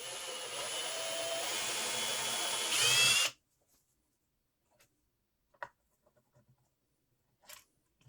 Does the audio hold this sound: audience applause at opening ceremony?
no